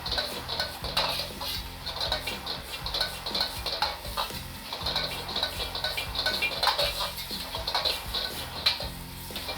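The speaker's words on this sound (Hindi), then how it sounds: "अब हम इसको दोबारा मिक्स करेंगे" A spiced Chinese-style chilli dish stirred in a sizzling pan, with a continuous fry hiss and repeated soft scrapes and light clinks of the utensil against the metal, close and without talk.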